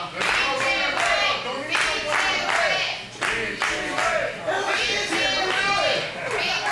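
A wrestling crowd at an MPW Hearts On Fire show claps in a steady rhythm to rally a downed wrestler, loud and filling the hall, while a commentator talks over it.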